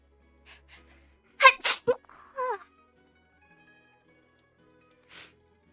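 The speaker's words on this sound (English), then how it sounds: "I really did sneeze." A single sharp human sneeze with a quick inhale before it, close and loud in an otherwise quiet room, followed by a small breathy sound.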